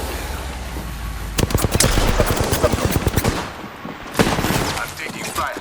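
Rapid automatic gunfire in a video game shooter, dense bursts of shots crackling loudly with brief pauses between volleys, a second burst starting near the end.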